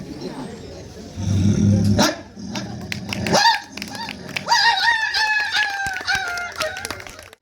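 A voice imitates snarling, barking native street dogs in a scuffle, with growls followed by a rising series of sharp yelps and barks, loud and close.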